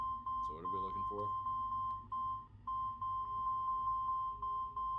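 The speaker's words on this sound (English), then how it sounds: "Well, I can hear the beeping go off." In the video game Assassin's Creed 2, a clear electronic beep repeats at a steady pulse of about three per second, briefly under a man's speech at the start and then alone.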